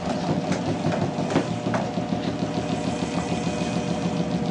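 An induction motor coupled to a generator on a bench spins up, giving a steady mechanical hum and whir with a faint rhythmic knock and a few brief clicks, heard alone with no talking.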